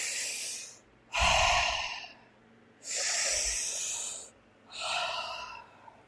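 Slow guided breathing in and out through the mouth: three long, loud, airy breaths sit close to the microphone, separated by brief quiet pauses, with no talking.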